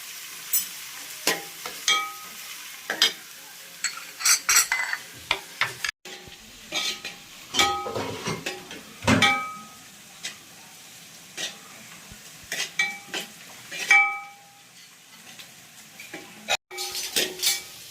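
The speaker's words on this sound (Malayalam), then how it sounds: "ഇതിനി നല്ലപോലെ വഴലണം." Onion and tomato sauté in a pan for a Kerala-style egg curry: a low sizzle runs beneath repeated close scrapes and clinks of a spoon stirring against the pan, in irregular bursts with brief pauses.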